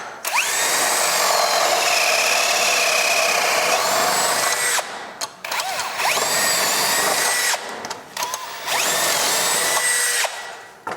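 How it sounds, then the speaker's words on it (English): A Summerfield Easy Bore jig with three Forstner bits, set up on a scaffold outside a front door, drills hardware holes in bursts of a high whining spin, with short pauses between three to four loud, close boring runs. "we're doing the boring of our hardware like I was talking about, and that's what's going on right here"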